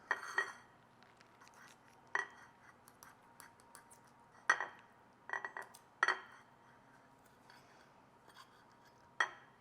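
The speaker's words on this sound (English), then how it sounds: "I brought out my super sharp butter knife just so I can show you how easy it is to cut into this." A butter knife cuts into baked stuffed peppers on a dish, making a handful of faint, close clinks and scrapes of metal on the plate at irregular intervals against near silence.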